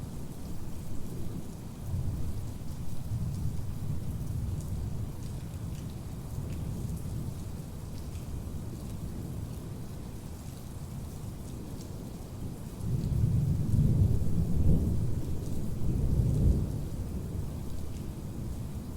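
Recorded thunderstorm with steady heavy rain and deep rolling thunder, the rumble swelling louder for a few seconds near the end, continuous and without voices.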